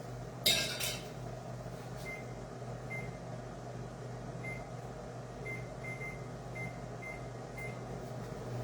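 A microwave oven on 50% power cooking rice gives a steady low hum and whir, with a brief clatter near the start and faint periodic beeps or ticks over the drone.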